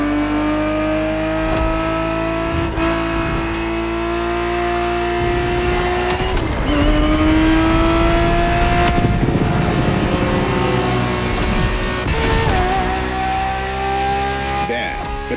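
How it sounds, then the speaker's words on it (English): A Ferrari 365 GTB4 racing in The Crew Motorfest, its engine holding a loud, steady drone that rises in pitch through the gears with brief dips at each shift, while a voice talks over it. "365 GTB4 is the perfect vehicle for you to experience Ferrari racing as it felt back in the 70s"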